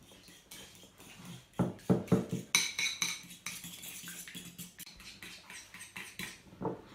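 A fork beats egg in a bowl for chocolate croissants, quick close clinking and tapping strokes in an uneven rhythm, louder in the middle and softer near the end.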